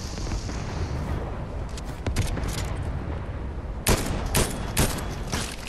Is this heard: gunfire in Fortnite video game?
yes